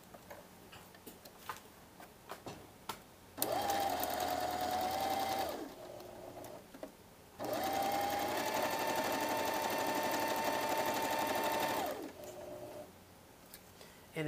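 A sewing machine stitches a jacket sleeve lining in two steady runs of rapid, even whirring, close and alone, separated by brief pauses and soft handling clicks.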